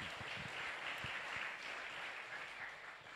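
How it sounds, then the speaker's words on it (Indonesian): A church congregation applauds during a sermon about the cross, a dense, sustained wash of many hands clapping at once, steady and fairly loud without talk over it. "Berikan tepuk tangan bagi Yesus."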